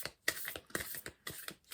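Tarot card decks being shuffled by hand, repeated riffling swishes and taps in an uneven rhythm, close and fairly soft with no talking.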